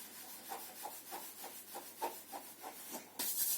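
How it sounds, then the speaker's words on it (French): Hands rubbing briskly over the lower back, a soft dry friction in a steady series of about a dozen strokes, close and quiet, with a louder rustle at the end. "et frotte les reins."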